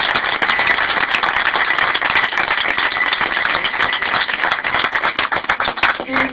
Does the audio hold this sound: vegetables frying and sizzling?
no